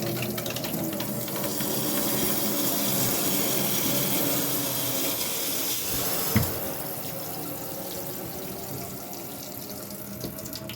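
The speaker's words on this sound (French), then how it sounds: "Hop, rinçage." Tap water runs steadily into a sink as small Citroën CX toy car parts are rinsed, a continuous close splashing hiss with one brief clunk partway through and no talk.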